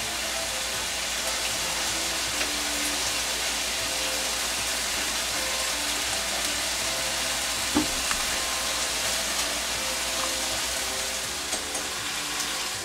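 Meat for tacos al pastor frying in a hot pan, a loud steady sizzle and crackle that runs unbroken throughout, with a few small pops and knocks.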